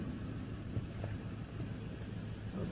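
A Ford Ranger 2.2 diesel engine with a misfire under load runs at a steady, close, continuous drone with a slightly uneven, rough pulse throughout and no voices.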